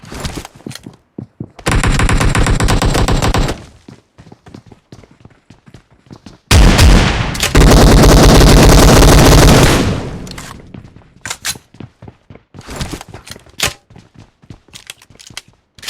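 Long bursts of AKM automatic rifle fire in PUBG Mobile ring out loud and close, with two sustained strings separated by scattered single shots and clicks.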